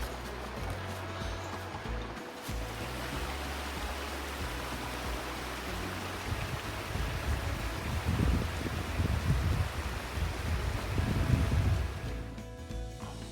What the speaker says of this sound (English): I could hear the water underneath these big boulders up here.